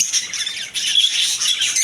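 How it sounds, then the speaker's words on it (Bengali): In a pet bird shop, a pineapple conure and other caged birds fill the air with a loud, continuous wash of shrill chirps and squawking chatter, close and overlapping without pause. "একটা আছে পাইনাপেল কোনর"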